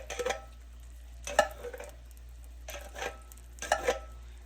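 Seafood stirred in a hot pan, with four separate bursts of scraping and stirring spaced about a second apart over a low, steady sizzle. The sound is close and moderate in level.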